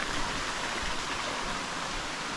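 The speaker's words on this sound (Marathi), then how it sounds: "बघा इकडे मस्त नदी पण वाहते" Continuous broadband rush of a river flowing through a Konkan village, steady and fairly loud with no voices, like standing close beside the current.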